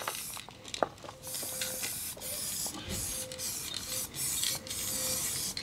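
A large aerosol can sprays paint onto Tesla car parts, giving close hissing bursts separated by short pauses.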